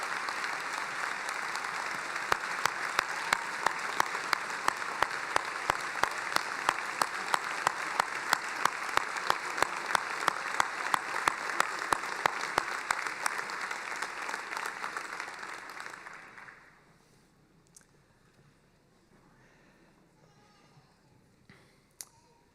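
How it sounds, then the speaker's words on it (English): Parents and families give a standing ovation at a University of Iowa College of Pharmacy commencement and white coat ceremony: loud, dense applause sustained for about sixteen seconds, then cut off abruptly, leaving quiet room sound. "Give them a standing ovation."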